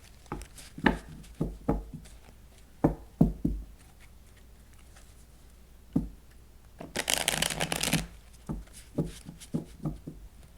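A tarot deck is handled: sharp knocks and taps as cards are squared on a table, then a dense riffle-shuffle burst lasting about a second, followed by more scattered taps, all close and clear.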